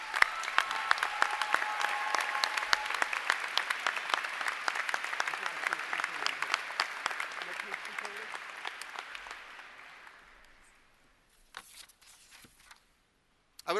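Commencement audience at Binghamton University's Harpur College of Arts and Sciences applauds the faculty: sustained dense clapping from a large crowd that gradually fades out after about ten seconds, followed by a few scattered claps and quiet rustling.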